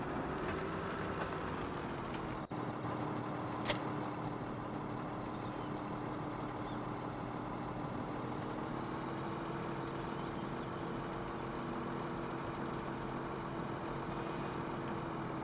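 A tractor engine idles steadily in Farming Simulator 2017, a low continuous drone with a faint mechanical hum that holds evenly throughout, with one brief click partway in.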